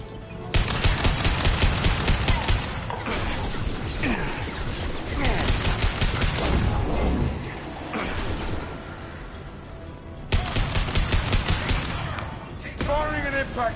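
Sustained rapid automatic gunfire in Mass Effect 2 fills a chaotic combat scene, with bursts of machine-gun chatter broken by brief pauses and thuds, and voices shouting over the shooting.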